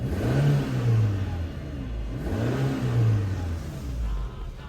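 Renault Megane 2 engine revved twice while stationary, each blip rising and falling in a loud, close mid-pitched whine separated by a brief idle, with no talk.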